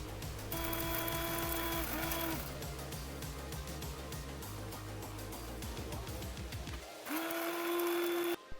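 A mixer grinder grinding whole spices (coriander seeds, cloves, fennel, bay leaves) runs in loud buzzing bursts with a whining motor tone and rattling seeds, pauses briefly, then starts again near the end.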